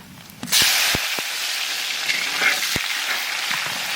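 Onions, bay leaf, dried red chillies and whole cumin dropped into hot mustard oil, a loud sudden hiss that settles into steady sizzling with a few sharp clicks of a spoon, close and without talk.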